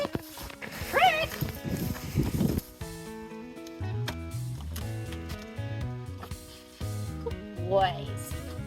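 Horses whinny nearby at the beginning and again at the end, amid hoof sounds at a barn, while people talk throughout.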